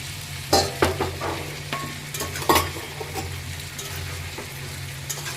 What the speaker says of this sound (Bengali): কাঁচা ধরনেরই টমেটো ছিল এগুলো ভালো করে আমি খুন্তির সহায়তায় ধীরে ধীরে মিক্স করে নেব